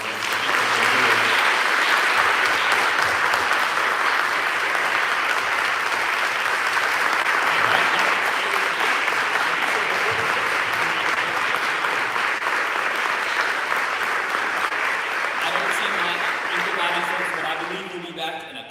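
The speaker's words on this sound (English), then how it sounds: "can we get a round of applause for these?" Sustained, loud audience applause fills a symposium hall for about eighteen seconds, steady and dense with many hands clapping, then tapering off at the very end.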